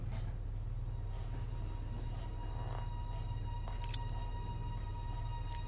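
A loud, steady low rumble like a train rolling along in the video game Resident Evil Zero, with faint clicks and thin high tones drifting above it.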